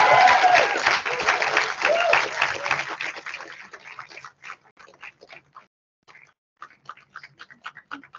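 Audience at a student council installation and awards ceremony claps loudly at first, then the applause thins out into scattered, fading claps and near silence.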